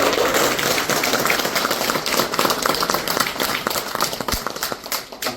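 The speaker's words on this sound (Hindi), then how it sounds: "जरा अच्छी तरह से तालियों की गड़गड़ाहट से उनको धन्यवाद।" Audience applause at an awards ceremony honouring life savers, a dense, loud, sustained round of clapping from a large crowd that carries on throughout and thins slightly toward the end.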